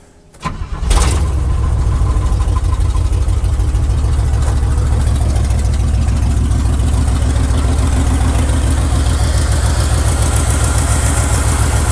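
A Chevrolet C10 pickup truck's engine cranks briefly and fires, then settles into a loud, steady, slightly uneven rumbling idle close by on a cool day, running alone without talk.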